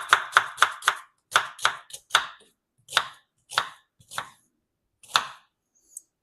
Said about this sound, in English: I know I'm cutting a little fast